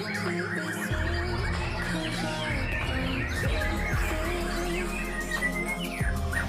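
A white-rumped shama (murai batu) sings loud, varied chirps and whistles close by, a continuous dense run of trills over a low background hum.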